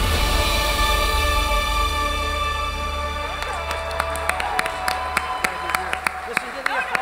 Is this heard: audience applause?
yes